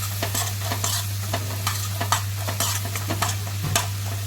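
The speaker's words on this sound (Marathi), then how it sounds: "कढीपत्ताही छान परतून घ्यायचा आहे" Curry leaves sauté in hot oil for a urad dal curry, a continuous sizzle with repeated stirring scrapes over a low steady hum, close and moderately loud.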